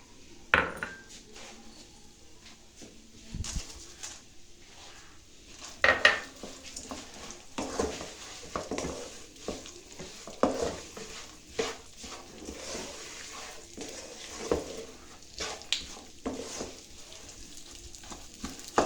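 Sesame seeds roast in desi ghee over low heat in an open pan, giving off a faint continuous crackle beneath frequent scrapes and clinks of a spoon against the metal. No one speaks.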